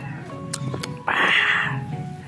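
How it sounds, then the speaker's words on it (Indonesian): A ginger domestic cat meows while waiting its turn to be fed at breakfast time, a single drawn-out, fairly loud call rising after a few softer background sounds. "Kucing Oyennya mau nunggu giliran makan"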